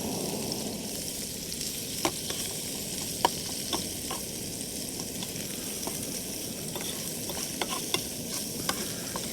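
Butter sizzling in a pan with pieces of smoked trout, a steady close frying hiss broken by small clicks and taps of stirring.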